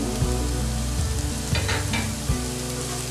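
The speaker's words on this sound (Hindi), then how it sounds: "सब्जियों को 30-40 सेकंड मैंने सिर्फ सॉटे किया है।" Chopped vegetables sauté in a hot pan, a steady close sizzle with a few louder stirring bursts and clinks, no talking.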